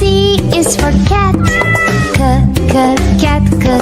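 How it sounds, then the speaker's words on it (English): A cat meowing over a loud, bouncy children's song, its calls repeating several times and mixed up front with the music. "C is for cat."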